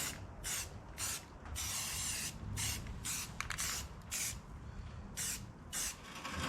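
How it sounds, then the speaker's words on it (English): Spray paint rattle can coating a backhoe battery tray, in a series of short, close hissing bursts with brief pauses between them and no talking. "Professional rattle can."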